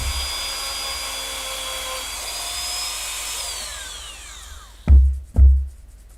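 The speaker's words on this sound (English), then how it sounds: "About the sound of the Dremel." A handheld Dremel rotary tool, used in miniature-converting hobby work, whines at a high pitch and then spins down with a falling tone, followed by two close, heavy knocks.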